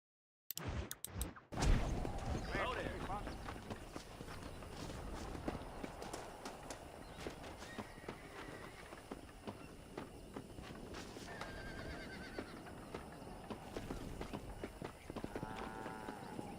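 Horses in the video game Red Dead Redemption gallop with rapid hoof clatter and let out several whinnies, set against a busy game soundscape after a few sharp opening hits, with occasional voices in the mix.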